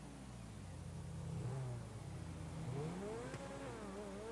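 A Turismo supercar engine in a video game revs steadily with rising and falling pitch sweeps, moderately loud and alone, with no talk.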